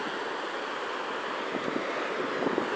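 Ocean waves break and wash steadily in a broad, hissing roar, with wind buffeting the microphone and no talk over the surf.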